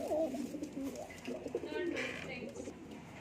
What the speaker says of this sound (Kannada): ನೋಡಿ ಹಕ್ಕಿಗಳೆಲ್ಲ ಹೆಂಗ್ ಸೌಂಡ್ ಮಾಡ್ತಾ ಇದಾವೆ